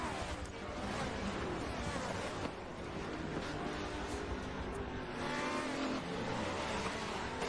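Sim-racing prototype and GT cars at Watkins Glen in an online endurance race roar past in a dense pack, with engines revving and tires squealing as one car spins, loud and continuous without talk.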